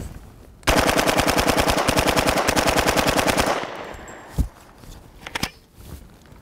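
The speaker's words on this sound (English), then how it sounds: "we're going to test out our UMP." A UMP45 submachine gun loaded with .45 ACP incendiary rounds fires one long, loud, rapid burst of about three seconds, then falls quiet apart from a few scattered impacts and clatters.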